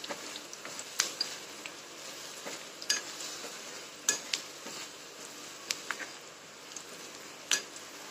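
Food roasts in a pan until golden, a soft steady sizzle under repeated scrapes and clinks of a spoon stirring against the metal at an irregular pace.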